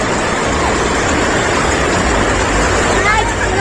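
Floodwater rushing through a flooded area in Tamulpur, a loud, steady broadband roar that fills the whole stretch without pause.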